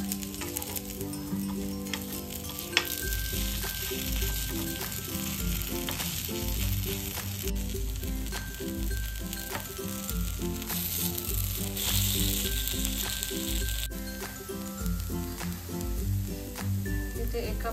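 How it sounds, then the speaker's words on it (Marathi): Corn appe frying in an appe pan after being flipped, a continuous gentle sizzle running steadily beneath background music and a speaking voice. "एका बाजूने आपण हे आप्पे छान असे शिजवून घेतलेत. आता त्यांना पलटलंय आणि दुसऱ्या बाजूने पण शिजवून घ्यायचेत."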